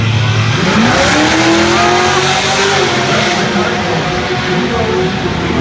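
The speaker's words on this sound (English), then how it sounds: "now we're going to see what happens in the bracket race" Drag racing cars launch at a quarter-mile bracket race, a loud broadband engine roar with rising revving tones and tire noise, continuous and fairly close throughout.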